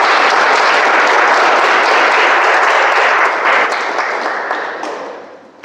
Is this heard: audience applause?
yes